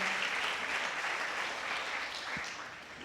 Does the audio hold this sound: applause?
yes